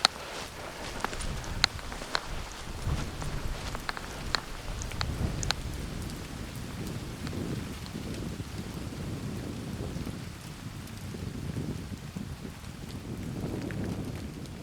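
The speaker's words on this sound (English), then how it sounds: "the rain continued as I headed up into the clouds" Steady rain on a hill path in Scotland, a close, continuous hiss with scattered sharp drips early on and soft crunching footsteps below it, with no talking.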